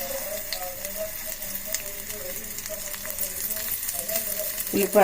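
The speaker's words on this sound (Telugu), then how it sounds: "బన్న దోశలకు తాలింపు అండి" Onion dropped into hot tempering oil with cumin, mustard seeds and green chilli for bun dosa gives a steady crackling sizzle under a voice, rising to a louder burst at the end.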